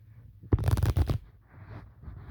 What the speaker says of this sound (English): we're going to shuffle them